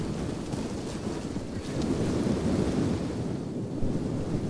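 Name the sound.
rocks landing and rolling in Total War: Rome 2 video game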